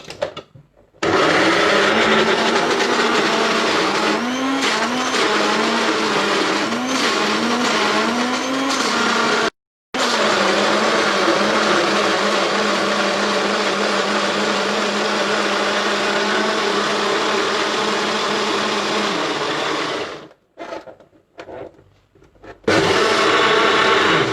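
A blender whirs loudly and steadily while blending a dip with olive oil, close by, with one brief cutoff midway and then a stop near the end, and no talking.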